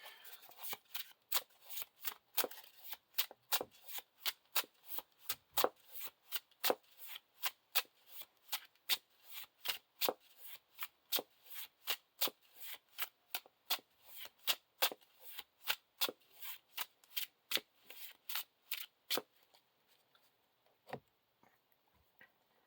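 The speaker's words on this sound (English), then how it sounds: "And shuffle our deck." Rapid riffling snaps of cards being shuffled, repeated in quick regular bursts, crisp and close, ending with a few sparse flicks.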